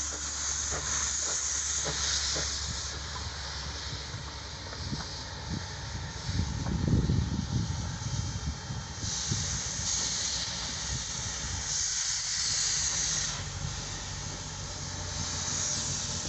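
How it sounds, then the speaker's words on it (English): A steam locomotive on a heritage narrow-gauge railway eases into a rail yard with a steady hiss of escaping steam, a rumbling swell midway and a low, continuous background rumble. "the locomotive makes its way into the north yard"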